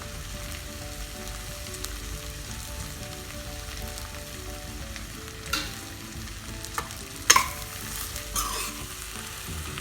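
Rice sautéing in oil for peas pulao, a soft steady sizzle with scattered stirring scrapes and a few sharper clicks from the spoon, fairly quiet and close.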